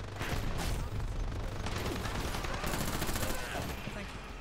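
Machine gun fire in the online shooter Dirty Bomb, a dense, continuous barrage of rapid shots and gunfire loud throughout, with players shouting over the battle.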